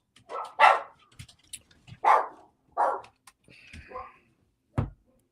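Several dogs bark in short bursts at a home as a daughter arrives, with sharp barks scattered across the clip, one loud close bark near the end, and a thin yelp or whine in between.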